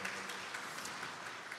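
A church congregation applauds their pastor during a Sunday service in Baltimore, a soft, steady patter of many hands clapping at a distance, faint and even throughout.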